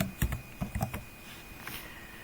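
Someone types a burst of keystrokes on a computer keyboard while entering text into a document. The clicks are quick, close and quiet, then fade into near silence.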